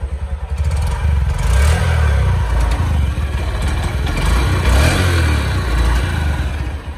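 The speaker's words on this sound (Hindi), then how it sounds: "और साइलेंसर की वॉइस सुन रहा हूँ आप।" A Honda Shine 125 motorcycle's engine and silencer exhaust run steadily after a single-click start, a close, loud low rumble with slight revving swells throughout.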